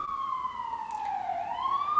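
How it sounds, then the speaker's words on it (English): An emergency vehicle siren on a New York street wails steadily, its pitch dipping and then rising again over two seconds, loud and continuous above a low rumble of traffic. "New York sirens"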